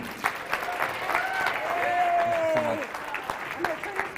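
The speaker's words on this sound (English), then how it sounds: "Big round of applause for Michael Redhead Champagne." Applause welcoming a speaker at a mental health walk event, sustained clapping from a crowd mixed with cheers and whoops.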